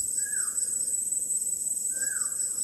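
A bird calling near a fishing spot, two short whistled notes a second and a half apart, faint and distant over a steady insect hiss.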